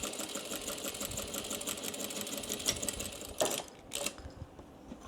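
A sewing machine stitches steadily across the seam of a pleated fabric bag, a close, continuous mechanical whir that holds for several seconds before stopping abruptly, then a brief final burst of stitching.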